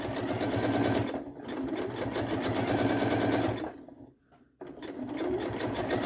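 A sewing machine runs steadily, its needle stitching fabric for gathering in a fast, even rhythm, pausing briefly twice before resuming.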